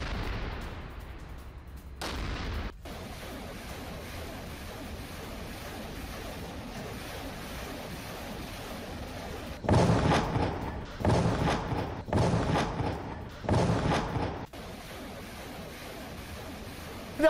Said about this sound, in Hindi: बॉर्डर एरिया के नजदीक दोनों देशों की शेलिंग हुई है